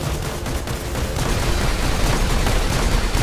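Heavy weapon fire from battling robots in the War Robots video game, a dense continuous barrage of rumbling blasts and crackling impacts, loud and close, with no talking.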